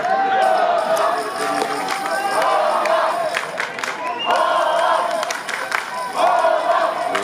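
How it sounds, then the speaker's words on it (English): A Dutch crowd at an over-60s men's hockey World Cup match in Barcelona chants and shouts in a loud, sustained mass of voices, with rhythmic surges and a commentator talking over it. "The crowd's starting to chant now."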